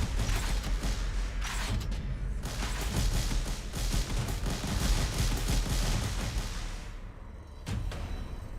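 Gunfire in a cyberpunk shooter, continuous rattling bursts and thumping shots filling a dense, steady battle din that thins briefly near the end before resuming.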